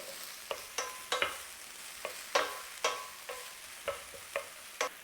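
Onion and garlic fry in a pan with a steady soft sizzle, punctuated by sharp, evenly spaced clicks and scrapes of stirring, close and without talk.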